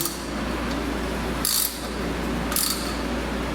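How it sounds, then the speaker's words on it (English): A ratchet on an extension tightens the oil filter of a Harley-Davidson Dyna Twin Cam, giving two short, close bursts of crisp clicking separated by a brief pause over a quiet background. "Take your ratchet with your extension."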